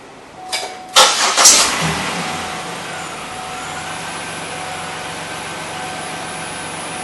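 A 2005 Buick LaCrosse, just after an oil change, cranks briefly and fires up, then settles into a steady, even idle that runs on alone close by.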